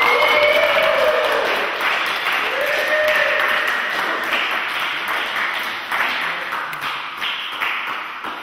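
A small crowd applauds at the end of a music video shoot, scattered hand claps and taps that swell near the start and taper off over several seconds, with voices mixed in.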